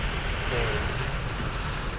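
Steady rain drums on a car during a driving lesson, a dense, even hiss close around the cabin for the whole stretch, with faint murmuring voices beneath it.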